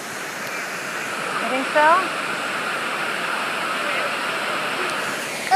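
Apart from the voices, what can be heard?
waterfall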